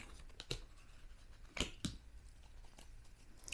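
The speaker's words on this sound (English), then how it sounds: "I really like to shuffle for a long time until I really feel like I have the right card" Tarot cards shuffled by hand, a run of soft papery riffles and flicks with a few sharper snaps standing out, close and quiet with no talk.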